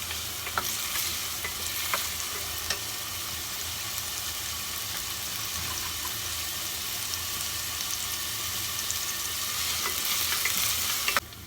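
Onions sauté in a pan while a homemade tomato basil sauce is being made, with a soft continuous sizzle and occasional clicks of a spoon stirring, heard close and fairly quiet with no speech.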